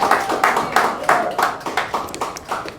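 Scattered audience clapping at a poetry reading, a run of irregular, fairly close hand claps that swell and fade in uneven bursts, with no steady roar of a full crowd.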